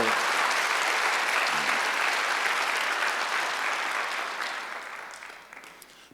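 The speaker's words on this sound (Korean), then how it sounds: "박수 좀 세게 쳐요." A church congregation applauds vigorously during a Sunday service, dense clapping that holds strong for several seconds before fading out toward the end.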